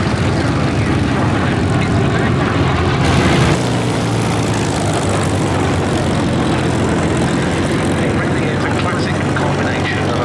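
A Grumman F8F Bearcat's 2,100-horsepower piston engine roars steadily throughout an airshow flyby, a loud continuous drone with a brief swell near the start, like a plane passing close overhead.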